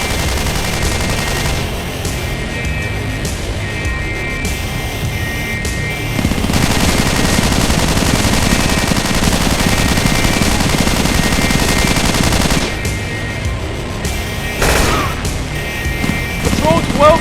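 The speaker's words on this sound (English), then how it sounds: "Suppressing fire! Keep that bastard pinned!" Sustained automatic gunfire in Halo 3 machinima roars loud and continuous, layered with heavier battle noise, and a voice speaks amid the dense firefight.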